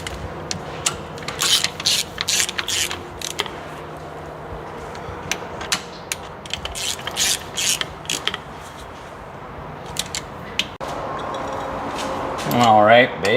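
Ratchet clicks and metallic tool sounds from tightening the bolts on a 2007 Ram rear differential cover, repeated short bursts up close with some rubbing and clatter, ending in a louder mechanical whir.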